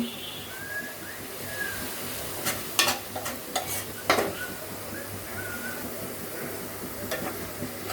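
Onions frying in a pan for biryani give a steady, moderate sizzle broken by a few sharp stirring clacks, with faint bird chirps in the background.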